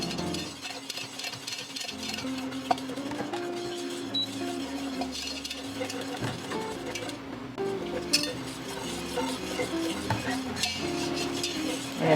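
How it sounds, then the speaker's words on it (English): Steady whisking of milk into a white sauce in a pan, a continuous close stir with occasional clinks of the whisk against the pan's metal sides, alone with no talk. "you're going to add your milk and just keep whisking"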